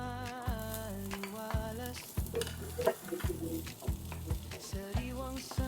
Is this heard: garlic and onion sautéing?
yes